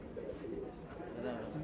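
Pigeons cooing at a busy pigeon market, soft low coos repeating under a murmur of nearby voices and crowd bustle.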